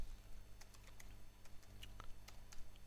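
Typing on a computer keyboard while naming a ChaletOS virtual machine in Oracle VirtualBox, quick irregular key clicks over a low, steady hum, quiet and close, with no voices.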